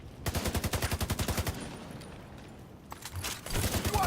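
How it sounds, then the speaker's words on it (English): Automatic gunfire in a tactical shooter game, a fast rhythmic burst of roughly a dozen close, loud shots, a short lull, then more scattered and rapid firing toward the end. "we're tactically shooting all these enemies in this tactical shooter"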